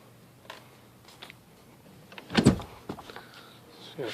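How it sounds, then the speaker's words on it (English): Power window motor in the driver door of a Nissan 240SX whirring briefly while the glass fails to move, heard as a few short mechanical bursts with one louder whine near the middle, close and fairly quiet. "You can hear the motor turn on, but it doesn't power the window up."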